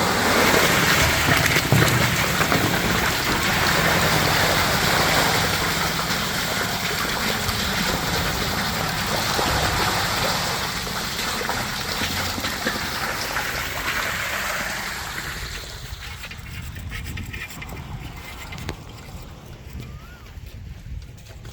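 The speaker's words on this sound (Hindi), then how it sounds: "यहाँ से ये हमारे प्यारे भाई इस बड़े से पाइप में पानी डाल रहे हैं।" Water gushes steadily into a large pipe feeding a 100-foot tube well boring in Pakistan, a dense continuous rushing and splashing that stays loud and close before gradually thinning out toward the end.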